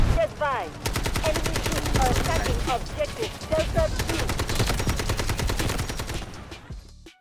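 Sustained automatic fire from a 70-round AKM rifle in the game Delta Force, a rapid, loud, dense stream of shots lasting several seconds and ending abruptly.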